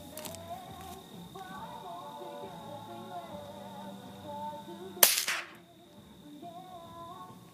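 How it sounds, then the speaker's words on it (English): A single sharp gunshot from target shooting cracks loudly partway through, ringing briefly over steady outdoor background noise and birdsong-like chirps, with no talk during the shot. "You're shooting way high."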